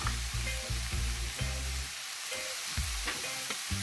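Vegetables are tossed in hot oil with garlic and seasoning, a steady close sizzle broken by repeated soft thumps and scrapes of stirring, with no talking.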